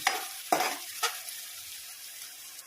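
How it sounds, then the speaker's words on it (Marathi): Ginger garlic paste frying in a pan gives sharp bursts of sizzling and stirring scrapes at the start, then settles into a faint, steady sizzle nearby, with no talking. "आले लसणाची पेस्ट कच्चेपणा निघून जाईपर्यंत व्यवस्थित शिजवून घ्यायची आहे."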